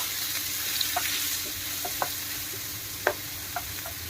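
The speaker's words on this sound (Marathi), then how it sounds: "एक कांदा मी बारीक चिरून घेतलेला आहे आणि तो आपण इथे आता तेलामध्ये घातलेला आहे" Finely chopped onion sizzles in hot oil in a pan for a Maharashtrian stuffed ridge gourd dish, a soft continuous frying hiss broken by scattered small pops and stirring clicks, fairly quiet and close with no talk.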